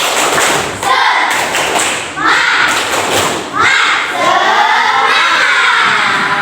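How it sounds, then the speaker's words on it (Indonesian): A group of children claps in counted bursts, loud dull thumps in rhythmic sets between shouted counting and voices close by. "Tepuk 1, tepuk 2, tepuk 3, tepuk 4, tepuk 5."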